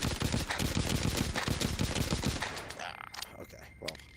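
Rapid gunfire from a weapon in the zombie video game The Walking Dead: Saints and Sinners, a dense run of loud repeated shots for about two and a half seconds, then fading to sparse, quieter sounds.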